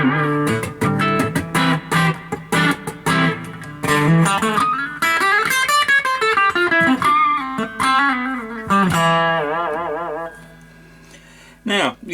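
A Schecter Banshee 6 electric guitar played through its humbucker pickup with distortion rings out in loud sustained notes and bends, pausing briefly before a final strum.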